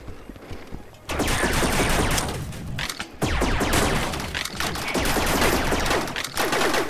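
Automatic gunfire in the Rec Room video game, long loud bursts of rapid shots with brief pauses between volleys, harsh and dense throughout, no talking.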